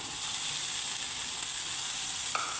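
Capsicum fries in a pan with carrots, garlic and green chillies, making a steady, fairly quiet sizzle throughout, with a single brief clink near the end.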